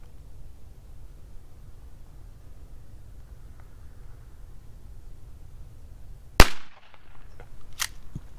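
A single sharp shotgun blast during an outdoor dove hunt cracks out loud and close after quiet field ambience, followed by faint rustling and a couple of small knocks.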